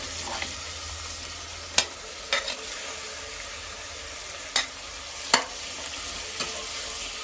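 Mutton with salt and tomato is stirred in a frying pan, giving a steady sizzle with a few sharp scrapes and clicks of the spoon against the pan.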